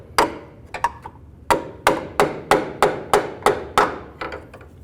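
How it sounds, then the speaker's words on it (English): Sharp metallic hammer blows on the lower intermediate steering shaft of a Ford Expedition ring out close by, a few uneven strikes followed by a steady run of about eight evenly spaced hits. "use a hammer and just kind of give this a couple loving bonks"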